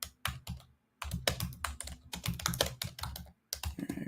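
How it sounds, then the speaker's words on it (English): Rapid typing on a worn 2017 MacBook Pro butterfly keyboard: dense bursts of close, crisp key clicks with short pauses between flurries, no voices. "my rickety keyboard from my 2017 MacBook Pro with those awful butterfly"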